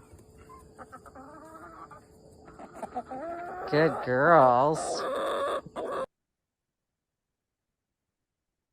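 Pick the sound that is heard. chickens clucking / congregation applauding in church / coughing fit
chickens clucking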